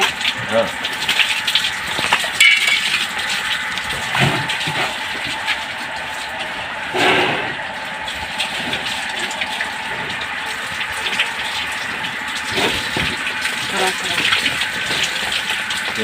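An electric motor pump runs continuously in a village setting, pushing out a steady gushing rush of water with a constant mechanical drone, loud and close, with a few brief knocks and occasional voices in the background.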